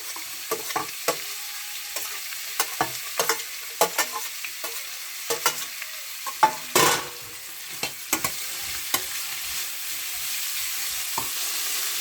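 Vegetables with carrot are sautéed in a pan for a fish roti filling, with a soft steady sizzle and frequent scraping, clattering stirs from a spoon against the pan, heard close with no talking.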